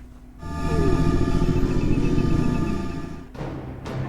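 Boss Demeter in Fate/Grand Order charging up magical energy, a dense rising whoosh and rumble swelling loud for about three seconds before breaking off into sharper effects.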